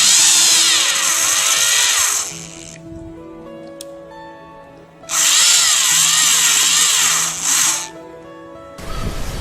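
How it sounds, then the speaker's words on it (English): A Foster FSD010 power screwdriver and drill runs in two loud, steady whirring bursts with a quieter pause between them, then a short final spin-up at the end. "This is Foster power screwdriver cum drill machine, model number fsd010."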